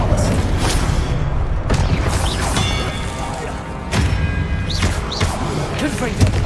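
Confringo blasting spell explosions in the Hogwarts Legacy video game, repeated loud booms and thuds amid busy spell combat, with sharp hits near two, four and six seconds.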